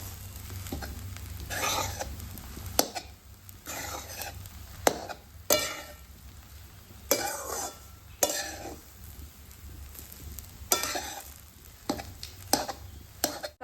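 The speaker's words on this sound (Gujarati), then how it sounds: "હવે આને ધીરે ધીરે ધીરે ધીરે હલાવી રાખશું" Lapsi, a sweet cracked-wheat dish, is stirred in a pan with slow repeated scraping strokes over a soft background sizzle, close and fairly quiet.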